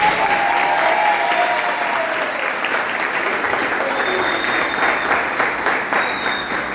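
A church congregation applauds loudly and steadily, dense clapping that continues throughout with a few faint voices beneath.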